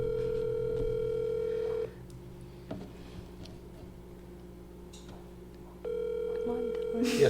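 Steady telephone ringback tone on speakerphone, a long continuous tone that cuts off after about two seconds and resumes near the end, with faint background noise in the quiet gap between.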